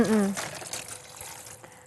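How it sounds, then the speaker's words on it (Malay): Water poured into a container while making a small decorative aquarium with ornamental plants, a soft trickling splash following a brief voice at the start, moderately close and fading slightly toward the end. "Okey, dan akhirnya kita tuang air."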